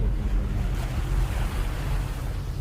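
Sea waves wash steadily onto Bang Saen beach, a constant rumbling surf with wind buffeting the microphone and no clear breaks.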